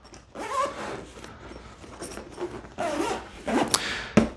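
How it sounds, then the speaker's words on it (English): Front pocket zip on a waterproof camera backpack being pulled open and closed, several scratchy rasping runs of the zipper close up, with no voice over it. "Has a zip, a front zip pocket."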